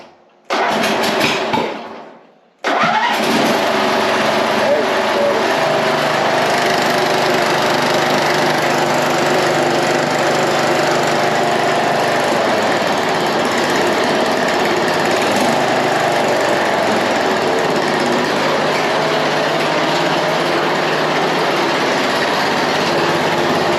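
John Deere Z225 lawn mower engine with a suspected clogged muffler and excess gas in the oil, cranking briefly, cutting out, then firing up and running loud and steady close by with a rough, buzzing drone.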